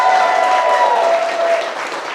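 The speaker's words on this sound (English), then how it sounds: "Just one more big, massive round of applause for Mom and Dad in particular." Dense audience applause at a Rush Athletics event, a continuous loud burst of many hands clapping that fades slightly toward the end.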